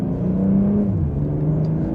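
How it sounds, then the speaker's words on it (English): A 2025 BMW M240i engine revs steadily upward in drive with its sport-mode transmission holding the gear, a loud, continuous rising drone close to the car with no talking. "it even revs out just a little bit higher"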